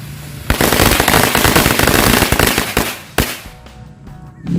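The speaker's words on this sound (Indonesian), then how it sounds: "sore hari ini kita menyalakan mercon renceng Betawi" A long string of Betawi firecrackers (mercon renceng) goes off in a dense, rapid, loud crackle of bursts for about three seconds, then one last sharp bang and a fading tail.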